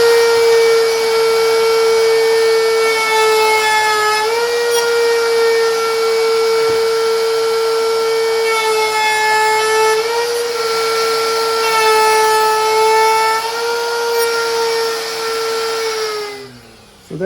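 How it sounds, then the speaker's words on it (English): A router cuts notches into wooden cabinet shelves with a loud, close, sustained high-pitched whine that holds steady for about sixteen seconds, dipping slightly in pitch as the bit bites into the wood, and then winds down at the end. "So there's our little notches that we cut in there with the router"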